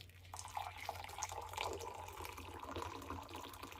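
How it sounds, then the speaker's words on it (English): Boiling water poured into a pan of gravy, a soft, close, steady trickling splash with faint dripping, quiet throughout and with no voices. "Put boiling water in there."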